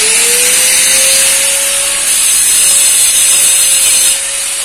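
Wood being sawn with a power saw during home renovation work, a loud steady whine with gritty cutting noise running almost continuously, dipping briefly midway and easing off at the end.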